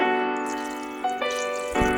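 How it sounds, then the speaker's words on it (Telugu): Water pours from a glass into a pan for upma in a close, steady stream whose gurgling tone rises as the pan fills, with a couple of splashy surges near the end. "మనం తీసుకున్న గ్లాస్కి రెట్టింపు వాటర్ పోయాలి"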